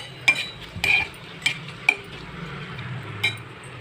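Onions, green chilies and curry leaves fry in oil in a pan, a soft sizzle under several sharp clinks and scrapes of a spoon against the pan at irregular intervals.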